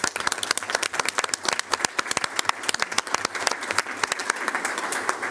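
An audience at a Board of Education business meeting applauds its higher education partners, a short burst of crisp, fairly sparse hand claps that carries on for about five seconds.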